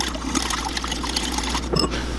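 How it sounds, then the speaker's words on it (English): Ingredients for a chocolate lava cake are whisked together in a bowl until smooth, a quick run of close, wet, rhythmic scraping and sloshing strokes. "we're just going to whisk those together until they're nice and smooth"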